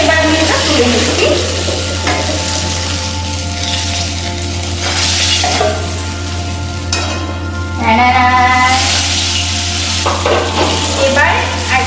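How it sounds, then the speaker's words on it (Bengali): A fish head fries loudly in hot oil and is lifted out of the pan, a constant close sizzle and crackle with clinks of a metal utensil against the pan and a low steady hum underneath. "তো আমার মাছের মাথাটা ফ্রাই করা হয়ে গেছে, এবার আমি এটা তুলে নিচ্ছি।"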